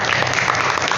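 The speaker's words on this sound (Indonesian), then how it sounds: "Beri aplaus untuk kita semua" Loud, dense applause from several groups in an anti-bullying group guidance session, a continuous burst of close clapping.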